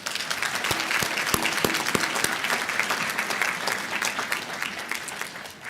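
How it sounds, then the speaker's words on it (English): A commencement audience at a conference center breaks into steady applause, dense clapping throughout with a few distinct claps standing out near the start, gradually tapering toward the end. "Let's give that a round of applause."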